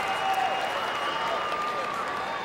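A crowd at the 2006 Nebraska high school state wrestling championships applauds and cheers after a 112-pound title win, with continuous clapping filling the arena and an announcer's voice running underneath.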